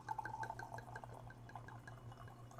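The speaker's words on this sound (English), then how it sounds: "let's pour a little bit of this in the glass" Libélula Joven tequila poured from the bottle into a glass, a faint, steady trickle lasting a couple of seconds over a low background hum.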